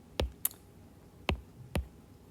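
Calculator keypad buttons pressed while entering an algebra expression, four sharp separate clicks spaced irregularly across two seconds, close and crisp against a quiet background.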